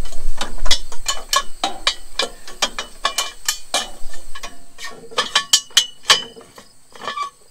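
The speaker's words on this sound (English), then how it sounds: "The fan's not turning because it's slipping on the belt because it's hitting the ratchet back there" A ratchet clicks as the engine of a rare all-terrain wheel-loader forklift is hand-cranked, its sharp metallic clicks coming close by in uneven bursts and short pauses.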